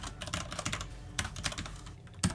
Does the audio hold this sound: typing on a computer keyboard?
yes